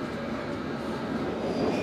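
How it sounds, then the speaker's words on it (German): A London Underground train runs with a continuous low rumble and broad rolling noise that holds steady throughout, close and fairly loud, with no talking. "Die Londoner U-Bahn"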